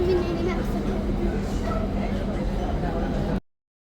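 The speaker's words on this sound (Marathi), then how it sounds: "4:17 स्टार्ट झाली आहे मेट्रो." Pune metro train pulling away from Kasba station on an underground platform, a steady rumbling hum that holds at an even level and cuts off abruptly, with people talking over it.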